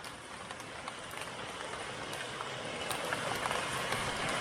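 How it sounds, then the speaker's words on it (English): Light rain starting to fall outdoors, a soft, even patter and hiss that gradually builds slightly, faint and steady with no talking. "Starting to rain out."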